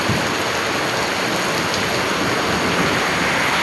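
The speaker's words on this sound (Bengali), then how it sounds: "এত জোরে বৃষ্টি হচ্ছে, এত জোরে বৃষ্টি হচ্ছে, আপনি ভাবতেই পারবেন না।" Heavy rain pours down outside a run-down house in a dense, loud, unbroken roar of drops with no gaps.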